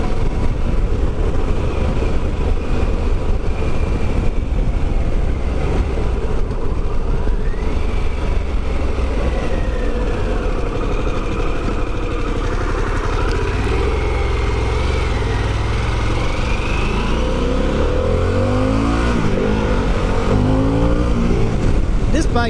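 A Harley-Davidson Pan America motorcycle engine pulls hard under acceleration, a continuous loud roar with rising pitch, mixed with heavy wind rush while a rider talks over it.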